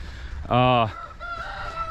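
A rooster crows once, loud and close for under half a second, in a farmyard chicken pen where the birds are being herded back in, followed by quieter clucking and faint background calls.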